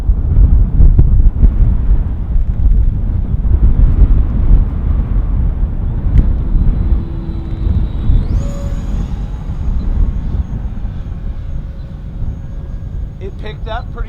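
Strong crosswind buffeting an open-air microphone at a model-jet flying field, a loud, continuous low rumble that stays dense throughout, with a faint whining tone rising briefly partway through.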